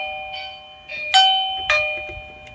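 An AOSU video doorbell chimes indoors, a clear electronic ding-dong with two bright strikes ringing out over faint background hiss, preceded by soft setup tones.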